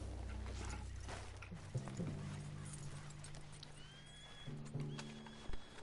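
Horses pulling a hitched wagon in Red Dead Redemption 2 on PS4 let out two distinct neighs a few seconds apart, over a steady clip-clop of hooves and faint birdsong, soft and moderately close.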